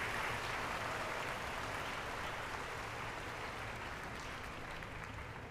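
A large crowd of first-year students applauds at a university orientation welcome, a dense, even wash of clapping that stays constant and fairly distant before fading slightly at the end.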